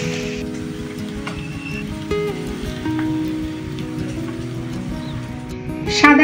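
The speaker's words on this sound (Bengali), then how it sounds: "সাদা তেল আর ঘিতে পনিরটা ভেজে নিয়ে এবারে দিয়ে দেবো সর্ষের তেল" Paneer frying in white oil and ghee in a pan, a steady broadband sizzle and crackle running throughout with a few brief sharper spatters, close and fairly loud.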